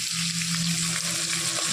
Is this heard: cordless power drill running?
no